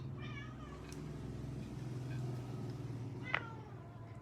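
A house cat meows close by in a kitchen where fresh spring rolls are being made, several drawn-out meows spread across the stretch over a low steady background hum.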